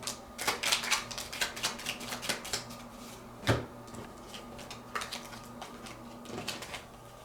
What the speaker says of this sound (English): That's a weird way to shuffle.